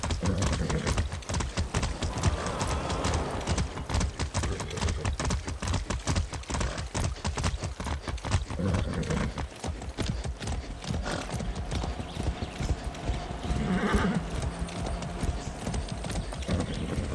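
Horse hooves clip-clop steadily through a ride in the Far Cry 6 video game, a continuous rhythmic trot heard up close with a brief whinny and faint mechanical game sounds mixed in.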